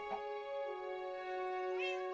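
A single drawn-out meow from a Minecraft cat, clear and tonal, rising slightly at the end, heard alone with little background.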